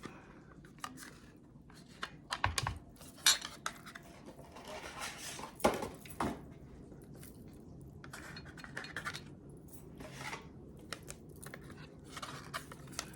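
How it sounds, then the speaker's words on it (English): Sauce spread across a pan for a gluten-free lasagna, with a utensil scraping and clinking against the metal in irregular close taps and scrapes, some sharper knocks standing out. "Spread the sauce out a little bit."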